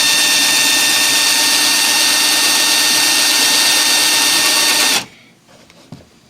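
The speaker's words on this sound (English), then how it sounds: "I'm just going to take my drill that has the screw, Phillips screwdriver at the end of it" A power drill fitted with a Phillips screwdriver bit whirs loud and steady for about five seconds while starting a hole in a Dollar Tree planter, then cuts off abruptly, leaving near silence and a small click.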